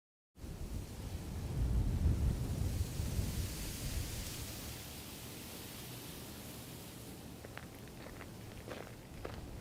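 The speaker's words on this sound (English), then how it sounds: "It is super windy." Steady, broad rushing wind outdoors in Toronto on a morning buffets the microphone throughout, with a few faint brief taps near the end.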